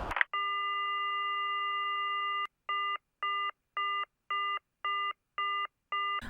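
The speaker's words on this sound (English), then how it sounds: "this bit where he slowly hangs up the phone gets to me every time" A telephone in Silent Hill plays a steady held tone for about two seconds, then a regular series of short repeated beeps, like a line left off the hook after a slow hang-up; clear and alone, with no talking.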